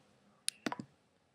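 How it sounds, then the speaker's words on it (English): A few quick computer mouse clicks, one sharp click followed by a fast cluster of two or three more, faint and close against quiet room tone. "So I could click on here"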